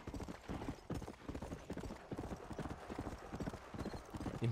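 Rapid, steady hoofbeats of a horse in the video game Red Dead Redemption clip-clop on a hard surface in a continuous trotting rhythm, close and clear, with faint voices now and then.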